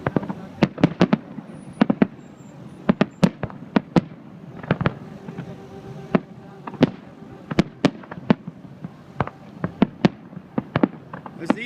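Fireworks burst repeatedly at Electric Daisy Carnival in Las Vegas, a steady run of sharp booms and cracks at irregular intervals over a low crowd and traffic rumble, heard from some distance.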